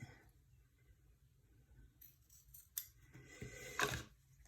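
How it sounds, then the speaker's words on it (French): Scissors snipping a piece of ribbon for a Stamperia craft album cover, heard as a couple of short, close snips near the end over a quiet background, with no talk. "en positionnant mon image, couper le morceau de ruban dont j'ai besoin"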